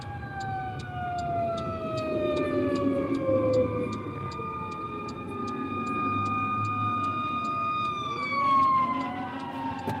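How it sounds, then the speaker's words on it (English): A fire truck siren wails continuously at night on a city street in Midtown Raleigh, its rising and falling tone fairly distant, with a rapid electronic yelp pattern over traffic rumble and no talking. "Got a fire truck."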